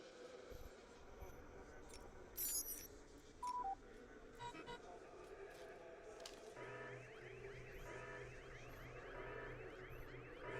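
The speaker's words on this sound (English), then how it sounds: "That sets off an alarm." An alarm goes off in Batman: Arkham Knight, a repeating electronic tone that starts partway through and keeps sounding over game ambience, with brief louder effects earlier on.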